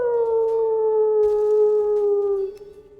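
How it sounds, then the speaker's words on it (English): A wolf in the survival game Valheim lets out one loud, sustained howl that slowly falls in pitch, with a fainter second tone joining partway through before the sound fades out. "We want to hear that wolf howl."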